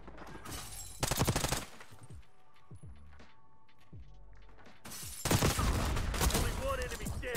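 Black Ops 6 gunfire in a Search and Destroy match arrives in two loud, rapid bursts of shots separated by a quieter stretch of scattered sounds.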